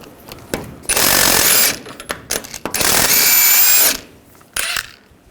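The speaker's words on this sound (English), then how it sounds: "Using a 24mm socket, we're going to take the jam nut off." Power tool driving a 24mm socket to remove the inner tie rod jam nut on a 2007-2013 Chevrolet Silverado 1500, heard as two loud, close rattling bursts of a second or two, separated by clicks and handling noise.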